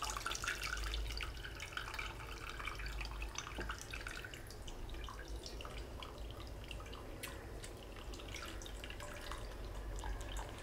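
Tamarind and tomato liquid poured into a Tamil anchovy (nethili) fish curry, a steady wet trickling and dripping that runs continuously at moderate level throughout.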